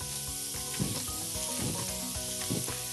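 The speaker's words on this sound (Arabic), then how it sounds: "نقلب الكفتيات." Kofta fingers sizzle loudly in a hot pan as they are flipped, giving a dense, close frying hiss with brief crackling bursts at each turn.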